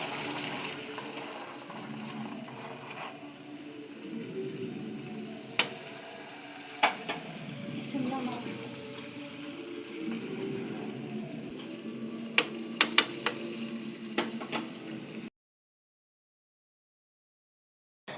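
Ghee sizzling steadily in a pan with fenugreek seeds added, a continuous frying hiss with a few sharp clinks and stirs, no voices, ending in silence.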